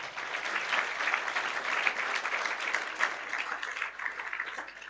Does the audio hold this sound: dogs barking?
no